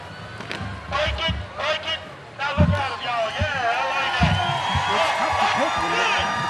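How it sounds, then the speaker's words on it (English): A St. Patrick's Day parade crowd cheers and whoops in the background while people talk prominently over it, with scattered shouts and bursts of excitement rising toward the end. "Do you hear the crowd?"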